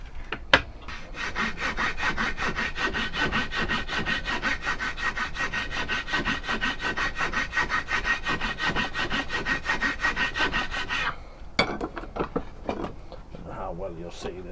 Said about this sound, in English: I'm going to take a file, taper these sides out a little bit.